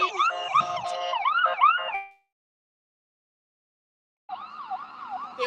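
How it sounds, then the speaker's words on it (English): A loud ambulance siren wails in rapid warbling cycles for about two seconds, breaks off into silence, then returns near the end. "There was an ambulance going by"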